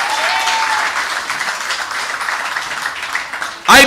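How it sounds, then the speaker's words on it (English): Audience applause at a political meeting in Tunapuna, a dense patter of clapping that swells and thins over a few seconds, ending with a brief loud burst, with voices underneath. "Give her a round of applause."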